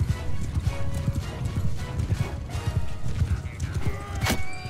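Horses gallop in a battle in the video game Mount and Blade 2: Bannerlord, with dense, rapid hoofbeats pounding continuously and a whinny near the end, under busy game noise.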